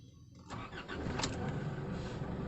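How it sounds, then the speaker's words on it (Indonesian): 2014 Isuzu D-Max diesel pickup fresh from an injector nozzle replacement, a brief starter crank catching at once into a steady, close idle rattle, heard alone without talk. "Starter sempurna sekali."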